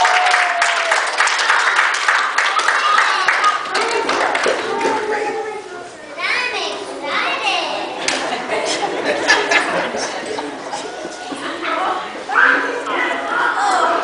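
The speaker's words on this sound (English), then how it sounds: "seriously, give these guys a round of applause" Church audience applauds the presenters of a Bible translation project, loud clapping mixed with laughter and lively chatter, dipping briefly midway before picking up again, with voices talking over it.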